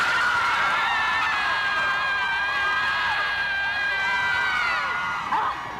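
Students at a school scream from open windows in a primal-scream ritual during finals week, a sustained wash of distant shrieks and crowd yelling that holds steady for several seconds.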